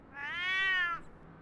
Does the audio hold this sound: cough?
no